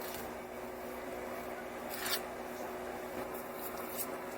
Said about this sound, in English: And I just apply it on there with the trowel.